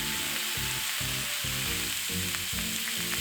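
Beef and vegetable rolls grilling in a pan, a loud continuous sizzle of fat and juices with a low rhythmic background pulse and a few faint clicks.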